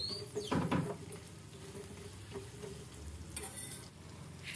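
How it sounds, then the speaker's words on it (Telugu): Soft sizzling from a pan with a few scraping stirs as okra pieces are mixed through the spice tempering, fairly quiet and steady, no voices. "ఇప్పుడు బెండకాయ పీసెస్ వేసుకొని కలుపుకోవాలి పోపు మొత్తం బెండకాయలకి పట్టేలాగా కలుపుకోవాలి"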